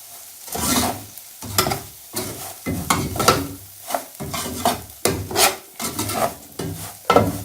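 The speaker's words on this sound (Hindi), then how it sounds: "अब सूजी को आहिस्ता आहिस्ता इस तरह चमचा हिलाते रहेंगे" Spoon stirring semolina in hot ghee in a pot for halwa, steady rhythmic scraping strokes about every half second with a soft sizzle underneath, close and fairly loud.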